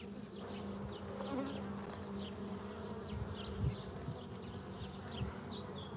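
A dense, continuous buzzing of many honeybee drones, fairly close, with a low droning hum underneath and a few brief louder bumps.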